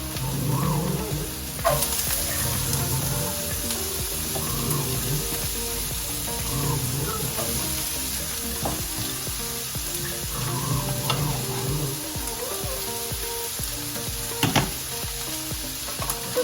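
Garlic fries in a pan for a seafood pasta, giving a steady close sizzle broken by repeated stirring scrapes and a few sharp clinks of a utensil against the pan.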